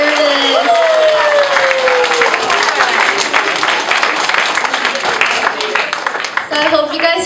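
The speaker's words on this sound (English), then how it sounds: "let's have a big applause and congratulations to Dad's accomplishments" Loud, sustained clapping and cheering from a crowd at a retirement party, steady for several seconds with voices and a few whoops mixed in.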